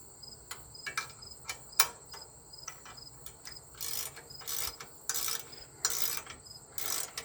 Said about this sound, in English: Ratchet wrench for the win.